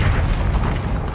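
A Confringo spell explodes in the video game Hogwarts Legacy, a deep rumbling boom that stays loud and dense through the whole short moment, with no voices over it.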